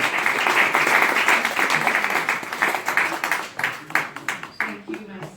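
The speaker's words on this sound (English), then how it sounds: "And another round of applause." Applause after a poem reading at a spoken-word event, loud and dense at first, then thinning into scattered claps, with voices mixed in.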